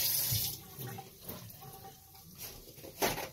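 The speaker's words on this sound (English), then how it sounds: "okay, rinse that stuff out" Tap water runs into a sink while tuna cans are rinsed out, a steady splashing wash with a louder gush near the end and no talking.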